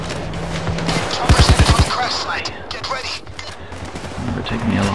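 Rapid bursts of automatic gunfire in the heist shooter Payday 2, a tight cluster of loud shots followed by scattered quieter firing and game noise, with some voice audible over the action.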